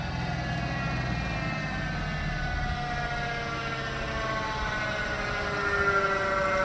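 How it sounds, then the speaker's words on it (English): A steady engine drone with rising, whining harmonics from a 40-horsepower tractor running a Ferri mower through thick, heavy brush, continuous and fairly close. "I'm sure you can hear that this 40-horse tractor is cutting through all of this material"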